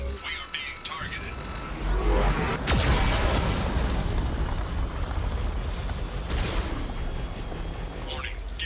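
Heavy Geth cannon fire in Mass Effect 2 Legendary Edition, a loud sustained roar of booming blasts with sharp impacts and rumbling low end, under a repeated automated warning voice.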